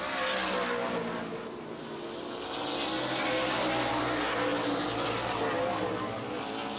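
Stock race cars roar around Baer Field Speedway during a 100-lap feature, a dense, steady engine drone from a pack of cars, swelling as they pass close and easing slightly, loud throughout.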